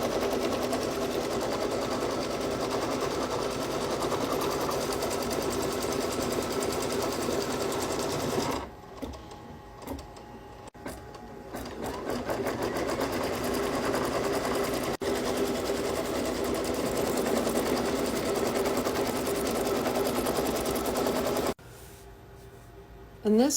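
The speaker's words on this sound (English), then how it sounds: "fabric block all pieced in the hoop using your embroidery machine just by flipping and folding fabric" An embroidery machine stitches fabric held in the hoop, its rapid needle chatter running steady and close, pausing briefly partway through and again near the end before restarting.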